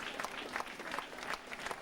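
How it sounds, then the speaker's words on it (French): A crowd applauds the podium winners of a summer running race, a sparse, steady patter of clapping with faint background chatter, moderately distant and continuous through the short stretch. "Vous pouvez les applaudir"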